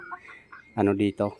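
A hen raised on the ground clucks nearby in a few short, close bursts of harmonic calls after a quiet start, while a voice speaks briefly at the beginning.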